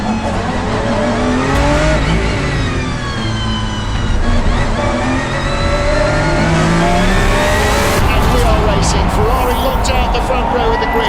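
Race cars lined up on the grid for the start of the centenary Le Mans 24 Hours, engines droning and revving loudly and continuously, with a crowd and announcements mixed into the dense noise.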